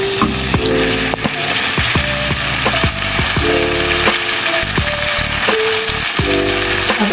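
Black chickpeas fry in hot oil with a loud, constant sizzle, and a spoon knocks and scrapes the pan at irregular intervals while they are stirred close by.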